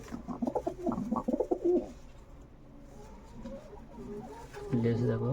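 Pigeons in a loft give low, throaty coos and soft burbling calls, close and clustered, stronger at the start and again near the end, with a quieter stretch of murmuring between.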